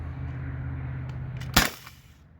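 A single sharp shot from a modified T4E HDB68 HPA-powered gun running low on tank pressure, a sudden close crack rising over a low steady hum.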